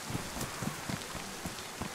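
Steady in-game rain in the survival shooter DayZ, a constant soft hiss of falling drops with scattered low patters and thuds, moderately quiet and even throughout with no talking.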